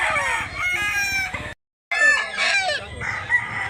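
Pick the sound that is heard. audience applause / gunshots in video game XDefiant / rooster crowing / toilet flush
rooster crowing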